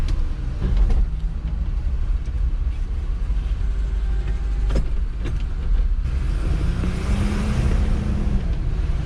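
The engine of a 1978 Ford F100 pickup truck runs with a steady low rumble throughout, close and loud, with a few short clicks and a brief rise in pitch near the end.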